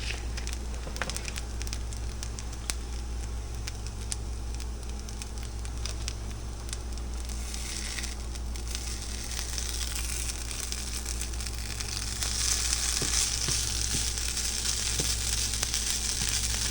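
Hash browns fry in a pan with a steady, even sizzle and faint crackle, close and continuous, no talking, the hiss swelling a little louder toward the end.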